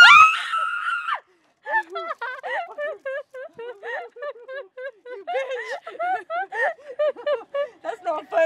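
A person lets out a loud, shrill scream at a campsite, lasting about a second, followed by a stretch of chopped, bursting laughter and snickering close to the mic.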